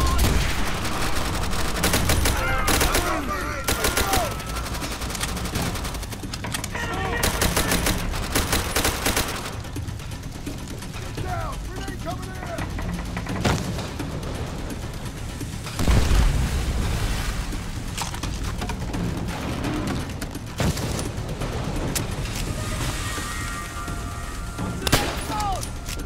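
Gunfire from a machine gun in the World War II shooter game Call of Duty: World at War, heavy dense bursts and booms filling the scene throughout, with voices shouting over the battle.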